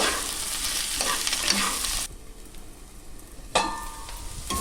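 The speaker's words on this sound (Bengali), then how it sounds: "এগুলোকে আমি ভালো করে একটু নাড়াচাড়া করে নেব" Chicken with black pepper stir-fries in a pan, a loud close sizzle with scraping stirs. The sizzle drops off briefly midway, then surges back as the pieces are tossed again.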